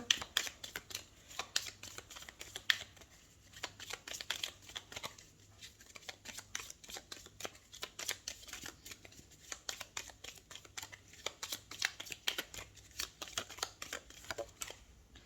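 Tarot cards are shuffled for a weekly Aries reading, producing quick, close, crisp riffling and flicking bursts in an irregular rhythm, fairly quiet and with no talk.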